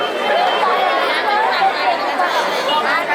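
Busy Sunday crowd at Jejuri temple, a continuous babble of many people talking at once, near and loud, with occasional individual voices rising above the steady murmur.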